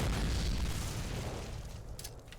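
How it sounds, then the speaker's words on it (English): A grenade explosion in Call of Duty, heard as the tail of a loud, broad boom rolling off and fading into low rumble over a couple of seconds. "Hope that grenade was far enough along."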